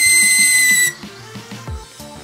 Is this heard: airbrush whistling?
yes